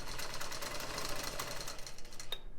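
A longarm quilting machine stitches a dot-to-dot pattern across a quilt block, a steady rapid mechanical buzz and rattle that runs continuously at close range, then stops with a brief squeak near the end.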